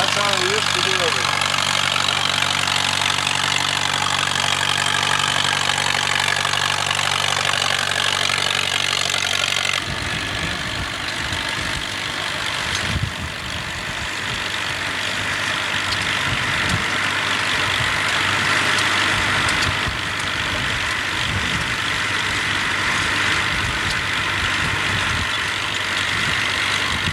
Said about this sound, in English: there's a sawmill running. Look at that belt. Running off that tractor.